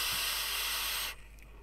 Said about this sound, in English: It's quite a noisy tank.